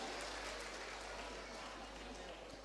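Dense, even clapping from an audience at a live Valli Aattam performance, sustained and fairly distant, with no break over the short stretch.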